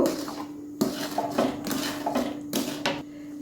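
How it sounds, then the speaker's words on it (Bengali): A spoon stirring sugar into milk payesh in a pot, a series of metallic clinks and scrapes against the pot rim over a faint steady hum, close and without talk. "চিনিটাকে খুব ভালোভাবে মিশিয়ে দেব"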